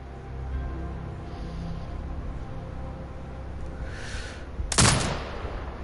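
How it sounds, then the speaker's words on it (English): A turret in a sniper game fires a single heavy, loud blast near the end, after a quiet stretch of low ambient hum and a faint rising whoosh. "command the turret to fire"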